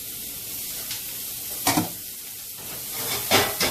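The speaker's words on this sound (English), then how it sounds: "We're going to add our ginger and garlic." Ginger and garlic sizzling in a frying pan, a steady hiss of frying with a few louder crackling surges as the pan is stirred, close by and with no talk.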